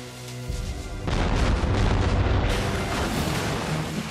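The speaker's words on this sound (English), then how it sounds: "Fire the cannon!" Heavy booming blasts of ship's cannon fire in an animated film, with a deep rumble rolling out continuously, sustained and loud, with no talking.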